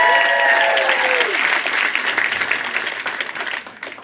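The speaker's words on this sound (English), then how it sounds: "Clap if you've seen me for the first time." Loud crowd applause at a stand-up comedy show starts at full strength, then thins into scattered claps that fade toward the end, with a brief voice or whistle-like tone over the opening.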